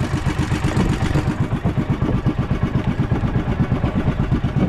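A motorcycle starts on the first try and settles into a fast, even idle, its close, loud pulsing beat chugging steadily with a slight clatter.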